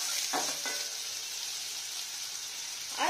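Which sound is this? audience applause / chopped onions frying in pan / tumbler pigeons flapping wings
chopped onions frying in pan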